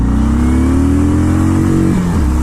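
A cruiser motorcycle pulls away hard from a standstill, its engine note climbing steadily in a loud, close, continuous rev before the pitch drops sharply near the end, likely on a gear change.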